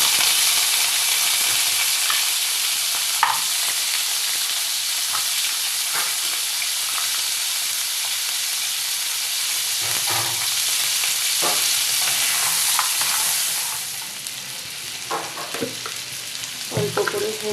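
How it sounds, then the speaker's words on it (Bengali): Sea crab pieces fry in hot oil with a loud, continuous close sizzle and occasional spatula knocks and stirs, easing slightly then rising again, no voices. "তেলটা গরম হয়ে গেছে, এবার কাঁকড়াগুলোকে ভালো করে ভেজে নেব।"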